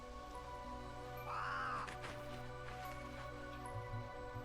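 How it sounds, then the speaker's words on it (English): A crow caws once in the video game Lost Records: Bloom and Rage, a short harsh call rising over a steady low background drone, fairly faint and alone. "Hey. Crow."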